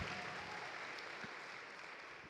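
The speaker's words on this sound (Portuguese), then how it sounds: "Pode aplaudir Jesus por isso?" Church congregation applauding during a sermon, a faint, steady wash of many hands clapping heard at a distance.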